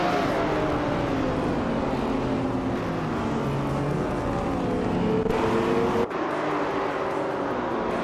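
A field of race cars in a video game, led by a 2009 BMW Z4 on pole, pulls away at the start of a race at Magny Cours, a loud, steady blend of engines droning and shifting pitch together.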